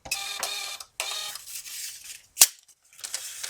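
A cash register prints a receipt after payment is pressed: a buzzing, whirring printer run in two bursts, then a sharp snap as the paper is torn, followed by fainter rustling, with no talk.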